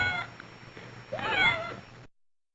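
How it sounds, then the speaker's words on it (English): A cat gives a clear, close meow, a short cry followed by a longer rising and falling call, before the sound cuts off. "A small kitten becomes a cat."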